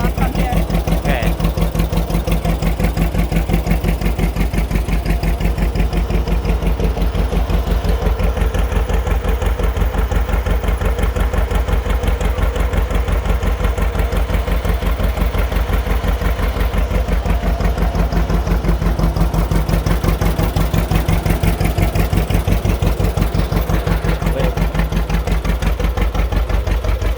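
A John Deere two-cylinder tractor engine runs loud and close with a steady, rapid putt-putt beat that holds the whole time, while people talk over it.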